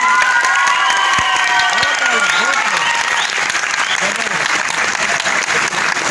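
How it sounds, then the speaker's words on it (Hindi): A stage drama show audience breaks into loud, sustained applause with cheering and crowd noise, and a voice is heard over the clapping throughout. "आपकी तालियां हैं अरशद खान।"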